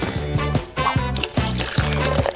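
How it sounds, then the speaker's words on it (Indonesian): Soda poured into a glass over beet balls for a beet cocktail, a close, continuous fizzy pour in a few short bursts with bubbling and trickling between them. "Tambahkan bola bit dan tuangkan soda."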